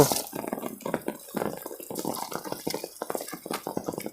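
Someone wades through floodwater during a cyclone rainstorm, producing repeated splashing and sloshing steps close by, alone without talk.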